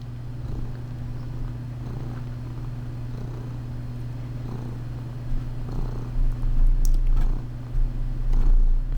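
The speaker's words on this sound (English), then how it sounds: "Fat Cat is happily purring." A cat purring up close, a steady rhythmic low rumble that continues throughout, with some rustling and handling noise toward the end.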